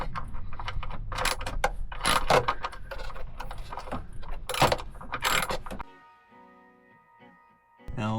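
Bolts come off a Toyota 4Runner with a run of close metallic clicks, rattles and clinks from tools and hardware, then a quieter stretch with a faint hum.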